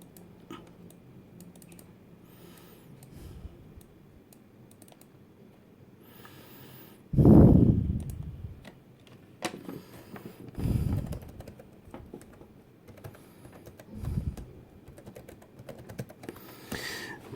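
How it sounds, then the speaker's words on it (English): Keys clatter on a ThinkPad 380ED laptop keyboard during a Windows 95 network setup, soft irregular typing over a low background hum, interrupted by a few louder low thumps and a snort-like noise, with no talking. "Type in my network information."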